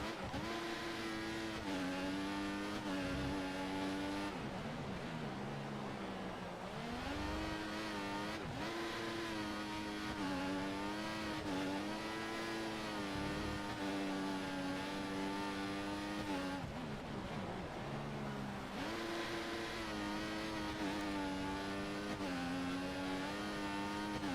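F1 race cars in the F1 2014 video game scream at high revs throughout, with shifting engine pitch as cars accelerate, change gear and jostle close together, loud and steady with no talk over it.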